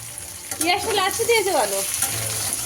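Potatoes and taro frying in a pan for a curry, a steady close sizzle with some stirring clatter under a voice speaking in the middle.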